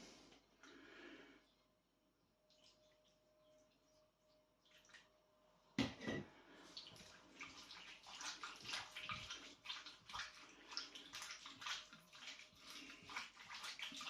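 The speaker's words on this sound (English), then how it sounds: "Then we're going to add some water." Water pours in suddenly and keeps splashing and trickling unevenly into a bowl of sliced beef after quiet clinks at the start.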